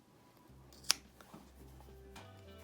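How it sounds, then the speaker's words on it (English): Scissors make one crisp, close snip through macrame cord while a festival vest is being made. It rises alone over a quiet room hum, followed by faint handling sounds. "I'll snip a little more off now that I got it knotted and in there."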